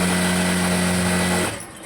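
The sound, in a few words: sewing machine stitching a cotton pant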